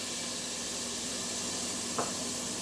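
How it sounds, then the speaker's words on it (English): Steady broadband hissing of steam and sizzling as water hits a hot burger griddle, continuous and fairly loud, with one brief clink partway through. "Give a little steam bath."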